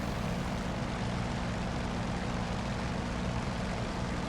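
Steady, loud drone of an F4U Corsair's propeller engine in flight in DCS World, a constant broadband roar with an unchanging engine hum and no other sounds.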